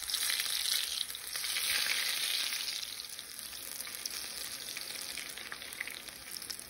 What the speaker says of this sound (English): You don't want it to sizzle too much and burn you.